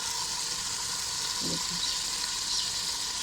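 Chicken pieces frying in oil in a pan for a restaurant-style gravy chicken, a steady close sizzle with constant broad hiss and a faint soft clatter midway, no speech.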